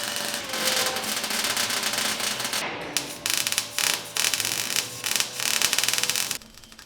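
Metal car body being cleaned of paint with a power tool, a harsh abrasive scrubbing that runs continuously at first, then breaks into a series of close, loud bursts with short pauses, before stopping.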